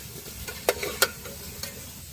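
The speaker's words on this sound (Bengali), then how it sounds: "আমাদের স্টোভ, ছোট্ট একটা পোর্টেবল স্টোভে রান্না চলছে।" Food cooks on a small portable stove outdoors at a forest picnic spot at Balughata Sunset Point, Haldia: a low, even sizzle with a few sharp utensil clacks nearby, and no speech.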